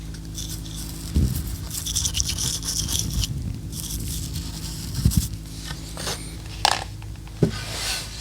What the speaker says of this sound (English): we need to reseal the wells with shellac